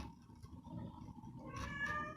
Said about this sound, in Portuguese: o gato miando